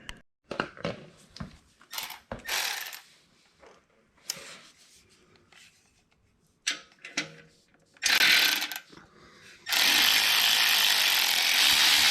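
A hand tool ratchets repeatedly as it loosens the exhaust heat shield on a Harley-Davidson Sportster, with short bursts of clicking separated by pauses, close by and fairly loud, ending in a longer sustained run.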